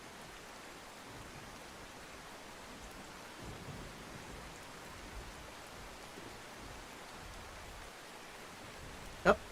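Faint, steady heavy rain hisses throughout a storm scene in the Outbrk storm-chasing video game, with low rumbling swells and a brief sharp crack at the very end.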